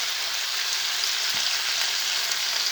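Veal roasts in a pan with onion and garlic, giving a steady, close sizzle of frying with no break.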